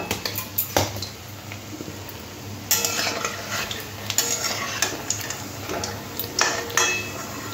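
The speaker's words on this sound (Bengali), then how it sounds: "দেখুন এরকম একদম লাল লাল করে ভেজে নিতে হবে।" Boiled-egg chops frying in a pan until deep red, with steady sizzling and repeated metal clinks and scrapes of a utensil lifting pieces out, close and fairly loud.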